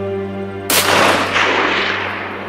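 A single loud, close rifle shot fired on a hunt, with a sharp blast that rolls off into a fading echo over a couple of seconds, with no talking.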